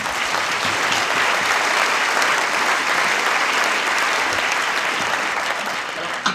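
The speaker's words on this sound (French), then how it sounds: "on peut l'applaudir." Audience at a film premiere in a cinema applauding, a loud, dense and steady round of clapping that holds evenly for several seconds before easing at the end.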